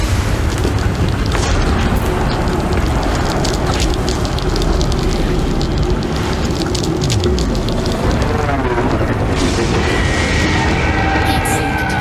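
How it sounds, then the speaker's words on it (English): AX missiles launch and burst in a space combat game near Titan, giving a loud, continuous roar of blasts and rumbling booms with crackling debris, and a sweeping tone rising near the end. "I unload 4 magazines of AX missiles and get ready to get the hell out of there"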